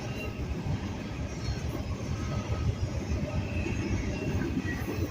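A Norfolk Southern or CSX freight train rolls past near a former Lackawanna Steel site, a continuous loud rumble of wheels and cars with rhythmic clatter and faint squeal, with no voices.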